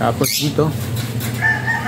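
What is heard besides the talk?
chickens crowing and clucking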